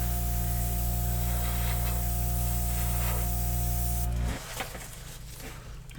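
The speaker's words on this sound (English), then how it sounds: "I wanted to try it with an airbrush" Airbrush spraying paint, a close, fine steady hiss that runs for about four seconds and then stops, leaving quieter room noise.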